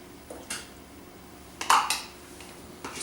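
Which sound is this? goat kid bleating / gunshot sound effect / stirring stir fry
stirring stir fry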